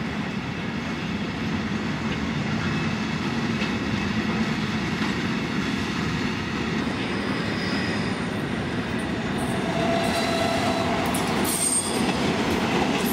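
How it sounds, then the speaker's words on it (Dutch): An Austrian Taurus electric locomotive pulls away near Rosenheim or Munich with a steady low rumble, a faint rising electric whine emerging toward the end, no voices. "De Oostenrijkse Taurussen van de series 10, 16 en 11, 16 maken ook dit geluid bij het vertrek"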